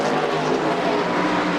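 A NASCAR race car at Dover Downs in 1994 turns onto pit road with a loud, steady engine roar close by throughout, no talking.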